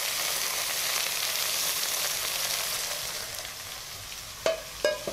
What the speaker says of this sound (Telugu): అలాగే చికెన్ కూడా వేసేసి వేపు కొద్దిగా పసుపు వేసాను.